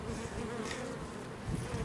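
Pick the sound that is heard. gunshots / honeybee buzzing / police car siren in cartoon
honeybee buzzing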